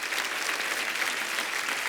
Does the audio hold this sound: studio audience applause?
yes